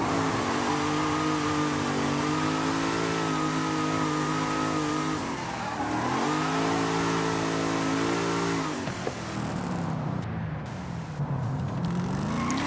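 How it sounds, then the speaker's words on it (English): Supercharged Corvette Z06 engine in Forza Horizon 5 during a drift build run, revving loudly with a whining supercharger, pitch climbing and falling through repeated accelerations, with no voices. "just enjoy the supercharger noises"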